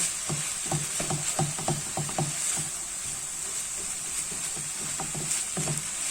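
Vegetable and minced meat filling stirred in a hot pan, spoon scraping in repeated bursts over a steady sizzle, then a quieter stretch of frying before a few more stirs.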